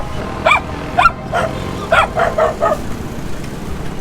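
A dog barks repeatedly, close and loud, in short yappy bursts, a few quick barks in a row then quieter whimpery yips.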